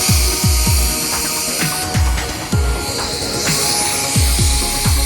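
A Portronics Tez handheld high-speed air duster blasts at full power, a loud, steady high-pitched whine with rapid repeated bursts and pulses as the airflow is triggered on and off.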